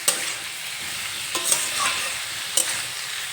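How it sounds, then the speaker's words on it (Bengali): Bitter gourd frying with salt and turmeric powder in a pan, a steady close sizzle broken by a few sharp spatula scrapes and clicks as it is stirred. "একটু নেড়ে চেড়ে নেব। লবণ আর হলুদ গুঁড়ো সব কিছুর সঙ্গে মিশিয়ে নেব।"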